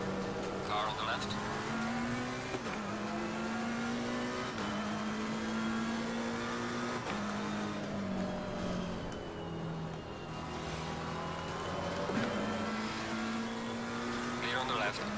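A race car in Assetto Corsa Competizione at the Nürburgring drones steadily with shifting revs as another car runs alongside on the left, engine noise loud and continuous with gear changes punctuating it.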